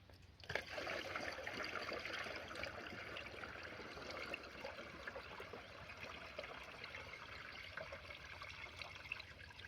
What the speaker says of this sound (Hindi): तो बटन पानी भरेंगे हम दूसरी तरफ से।